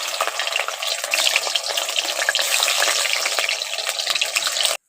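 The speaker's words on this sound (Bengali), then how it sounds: "এইভাবে করে আমি সবগুলো ভেজে নেব" Flour snacks frying in a pan of oil give a loud, dense, continuous sizzle up close, with bubbling and light stirring clatter, cutting off abruptly at the end.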